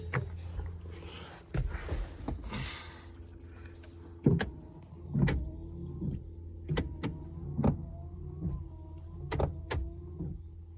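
A junkyard windshield wiper motor on a Chevy Aveo, fitted with one loose wiper arm, runs steadily with a low mechanical hum and a series of sharp periodic clicks and knocks as the arm sweeps back and forth, close by.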